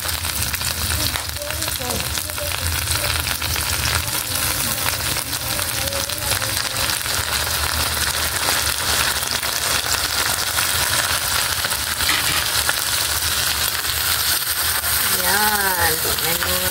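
Ginamos, a fermented fish paste, sautés in a frying pan with a steady, close sizzle and crackle running throughout, and a brief faint voice shows near the end.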